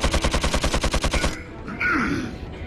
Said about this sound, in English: I may as well use our last bloody magnum bullet on this big